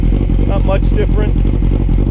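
A 2005 Yamaha YZF600R Thundercat fitted with a Delkevic exhaust runs close by with a steady, throbbing engine note, loud throughout, with a brief voice over it.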